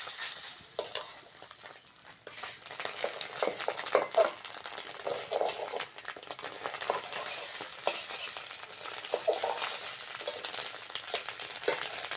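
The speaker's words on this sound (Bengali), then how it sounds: "বেগুনের ঝালের জন্য প্রথমে ডিমটা ভেজে নেবো" An egg frying in oil in a pan or karahi for a Bengali brinjal jhal, with steady crackling sizzle and occasional stirring and utensil clinks throughout, close and alone with no talk.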